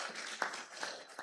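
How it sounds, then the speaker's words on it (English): Audience at a private medical and dental practitioners' annual general meeting claps for award winners, a short burst of scattered hand claps with a few sharper individual claps standing out, moderately faint and without talk. "Shall we clap for the award winners?"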